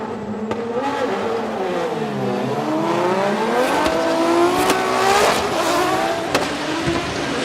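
A Toyota JZX100 Chaser drift car at Formula Drift Japan, engine revving high and falling through gear changes as the tires squeal in a long slide, loud and close with a rising whine near the end.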